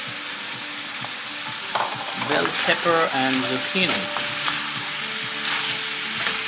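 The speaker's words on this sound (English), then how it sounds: "we're kind of frying this thing at the same time" Diced vegetables for kung pao chicken sizzle and crackle steadily in a hot pan, with scraping stir sounds and a brief spoken phrase over the frying.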